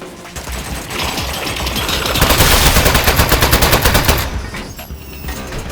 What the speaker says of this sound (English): Oh, jeez, it's got a gun! It's an ambush!